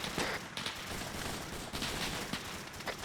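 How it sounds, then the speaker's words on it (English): Incoming gunfire in Arma 3 sounds as a faint, distant fusillade of scattered shots, with several louder cracks standing out over a dense, steady background rumble. "Shots coming in from northeast."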